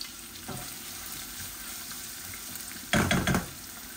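Onions dropped into hot oil with frying vegetables, giving a steady low sizzle and a sudden louder burst of crackling near the end, close by.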